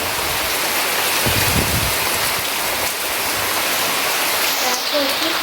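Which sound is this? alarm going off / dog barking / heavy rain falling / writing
heavy rain falling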